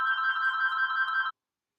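A telephone rings in one steady, continuous electronic tone lasting just over a second, close and clear, then cuts off abruptly into silence.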